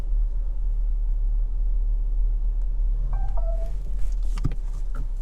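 A Kia Proceed GT Line creeps along slowly during automated parking, with a steady low engine and road rumble, a short electronic beep tone midway, and a few clicks and knocks near the end, no speech.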